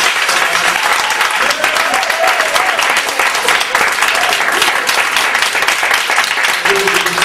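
A church congregation bursts into loud, sustained applause, a dense unbroken wash of clapping from many hands close by, with a voice briefly audible near the end.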